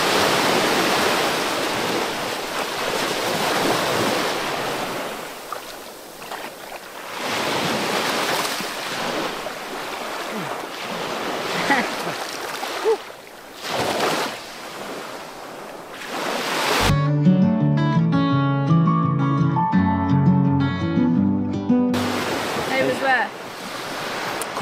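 Black Sea surf rolls onto the beach at Sinemorets, Bulgaria, in repeated rushing swells with wind, loud and close, interrupted briefly by a burst of music.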